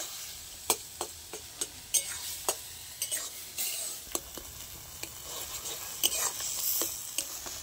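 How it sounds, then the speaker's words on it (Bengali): Tomatoes with chilli powder cooking down in a pan are stirred with a spoon, sharp scraping taps repeating irregularly over a soft, continuous sizzle, close by. "এরকম করে নাড়তে থাকবো একটু 5 মিনিট মতন। টমেটোটা একদম গলে যাবে।"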